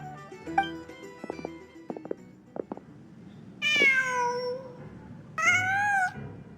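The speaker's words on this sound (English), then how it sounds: "Just a cat." Two drawn-out meows from a cat in a video game, loud and close, arriving a second or so apart near the end, preceded by faint clicking game sounds.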